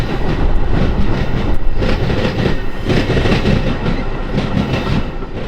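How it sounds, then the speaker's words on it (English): Metra Rock Island commuter train, inbound, pushed by an F40PH locomotive, rolls past near the 16th Street interlocking in Chicago, a loud, steady rumble with rhythmic clickety-clack of wheels over rail joints throughout. "Next up would be inbound train number 304, being pushed by F40PH M-2-209."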